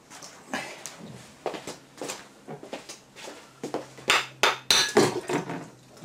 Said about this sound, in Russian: придется с помощью молотка и зубила.